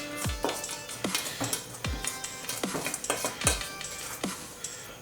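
Spatula or whisk clinking and scraping around the edges of a mixing bowl of butter cookie batter, repeated metallic knocks and scrapes roughly twice a second, close with no talk.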